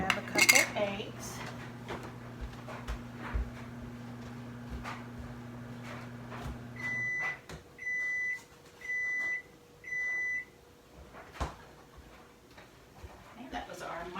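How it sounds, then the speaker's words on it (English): A kitchen microwave oven gives four evenly spaced beeps partway through, following clinks of dishes and a low hum, with quiet room sounds after. "that was our microwave"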